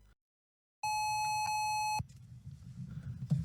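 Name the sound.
sync tone beep from audio-video synchronizing gadget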